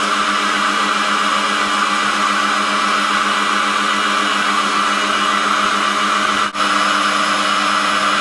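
An electric cream separator rated at 80 L/H running with a steady, loud motor whine and constant mechanical hum, unbroken apart from a brief dip near the end.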